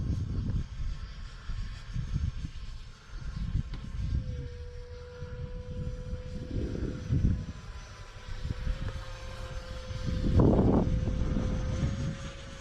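A grey Freewing F-16 70mm RC jet flies on its maiden flight, its whine a steady tone that drops slightly and then holds, under wind rumble and a brief loud swell near the end.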